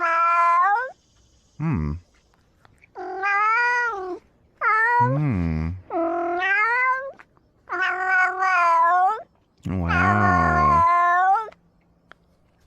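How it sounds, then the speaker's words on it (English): A cat meows repeatedly and loudly up close, with about eight drawn-out, wavering calls separated by brief pauses, and a person murmurs briefly in between. "That's a lot of meowing. Did you guys hear all that meowing?"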